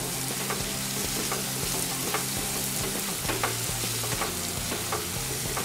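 Spices roasting with onion in a pan for chole, a dense continuous sizzle with repeated stirring scrapes and light ticks, close and steady, no talk.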